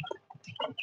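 Young chicks in a brooder give soft, short clucking peeps as they peck at feed, a brief close flurry of several calls with no talk over them.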